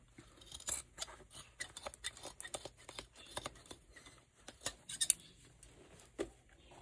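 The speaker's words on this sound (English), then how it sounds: "All right, let's cut the other leg." Scissors snip through the leg of old jeans in repeated quick cuts with uneven rhythm, close and crisp against a quiet room, no talk.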